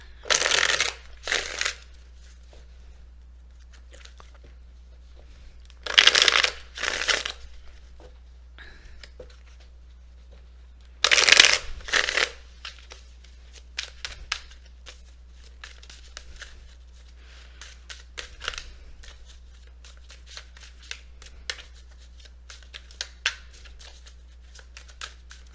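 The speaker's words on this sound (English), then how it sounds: "Let's go ahead and pull these cards here." Tarot cards shuffled in several short bursts of riffling and slapping, separated by quiet stretches with faint handling noises in a calm indoor setting.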